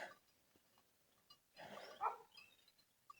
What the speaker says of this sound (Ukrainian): Там сусідська собака гавкає.